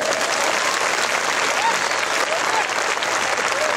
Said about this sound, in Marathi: फक्त बाया टाळ्या वाजवा